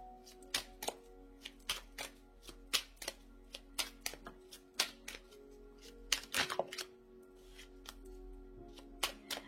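Tarot cards being shuffled for a card reading, a steady run of quiet, close papery riffles and soft taps repeating in an uneven rhythm with no talk over them.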